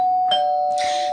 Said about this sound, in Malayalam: അപ്പൊ ഒരു മണിയൊച്ച.